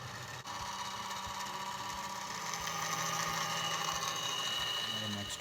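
An end mill on a metal lathe cuts holes in metal, a steady grinding whir with a faint rhythmic mechanical ticking under it, running continuously at a moderate level.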